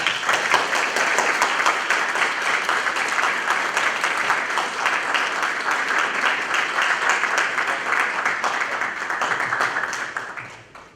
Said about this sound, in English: that applause was gracious